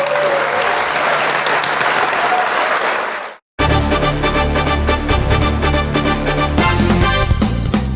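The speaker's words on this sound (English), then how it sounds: "Please join us in giving a round of applause for these two awesome past presidents." A room of people at a Rotary club meeting breaks into applause for two past presidents, a dense sustained clapping, then a brief gap before louder close clapping mixed with music.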